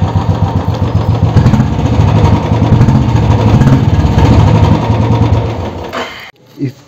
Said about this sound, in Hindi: बाकी इसके साउंड आप सुन सकते हैं, एग्जॉस्ट नोट